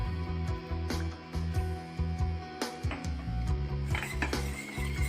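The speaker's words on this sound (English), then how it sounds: "Now we need to add milk little by little so that the lump doesn't form." A whisk clinks steadily against a pan while milk is worked into a butter-and-flour sauce for chicken lasagna, the metal taps in a quick continuous rhythm, close and moderately loud, with no talking.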